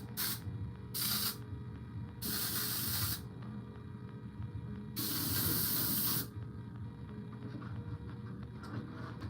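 Aerosol spray paint hisses in four separate bursts of varying length onto an RC drift car body, loud and close, with a steady low background hum between bursts.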